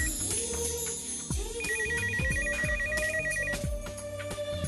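A phone ringtone plays a bright, looping electronic melody with a rapid trilling warble. It sounds close and clear, with no voices over it.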